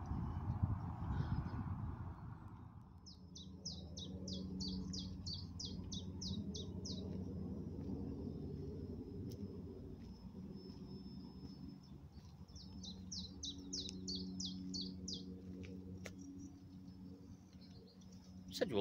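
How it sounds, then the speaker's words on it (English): A sedge warbler gives two bursts of rapid, chattering song at a distance beside a flowing river, scratchy trills separated by a pause, over a low rumbling background. "Sedge warbler over there"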